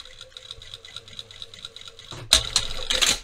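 A sewing machine stitching clear elastic onto a trouser waist runs in a steady, rapid mechanical chatter, then grows louder and busier near the end, with no talking.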